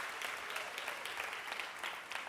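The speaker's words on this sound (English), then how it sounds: "That deserves a big round of applause" A Women's Equality Day audience in Los Angeles gives a round of applause, a dense, steady wash of clapping that holds at an even level for a couple of seconds with no voices over it.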